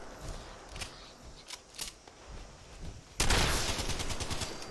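Gunfire in the Fallout 76 video game: scattered distant single shots crack at first, then a loud, close burst of sustained rapid automatic fire takes over.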